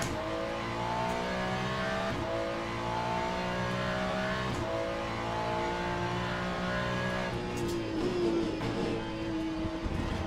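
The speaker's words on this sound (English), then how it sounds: "We're driving for a Ferrari. We're in the slower class, GT3, with hypercars in the field." Ferrari GT3 race car in Le Mans Ultimate, engine revving up through the gears in repeated rising sweeps with shifts, loud and continuous, ending in a tire squeal.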